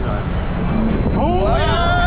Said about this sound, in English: We're here on AlpenFury, Canada's Wonderland's brand new Premier Rides long key launch coaster.